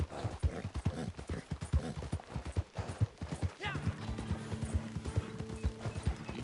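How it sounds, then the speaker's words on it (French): Rapid rhythmic hoofbeats of a galloping horse in Red Dead Redemption, clip-clopping close by, followed by a short whinny and a tonal game-like hum underneath. "Ça c'est plus quand le cheval galope ou saute."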